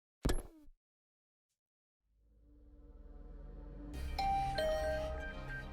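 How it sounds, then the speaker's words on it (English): A doorbell rings in the video game Last Defense Academy: a sharp chime at the start, silence, then a swelling low musical tone with bright bell-like notes building above it. "another sound echoed through my room. The doorbell."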